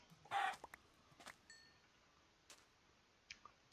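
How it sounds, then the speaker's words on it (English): A Minecraft chicken gives a short cluck, followed by sparse faint clicks and taps from the game in an otherwise quiet scene, with no talking. "Let me go kill this chicken real quick."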